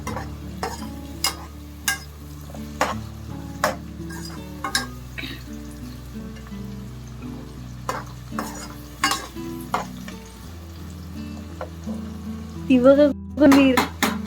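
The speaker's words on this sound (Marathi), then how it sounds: "कांदा मस्तपैकी भाजून घ्यायचं" Onions frying in a pan and being stirred, with a few sharp spoon or utensil taps on the pan over a low hum and light sizzle. Brief voices and laughter come near the end.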